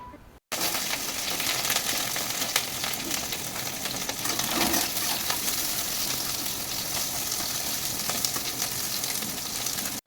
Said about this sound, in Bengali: আমি আগে কিন্তু ডাঁটাগুলো ভেজে নেব